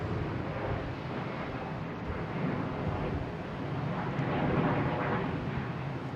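A JetBlue airliner departs Boston Logan bound for San Juan, heard as a steady, broad, distant roar that holds level for the whole stretch with no voices.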